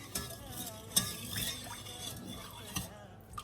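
A spoon stirs a syrup of sugar, water and lemon juice in a pot, producing soft, irregular scraping and clinks against the metal with light liquid swishing, close and fairly quiet.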